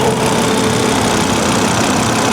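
A 2004 AWD Volvo XC70 engine idles steadily with a constant low rumble and even hum, loud and close, no voices.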